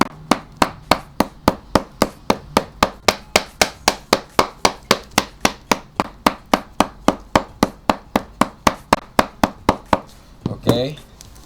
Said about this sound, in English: So we hammer.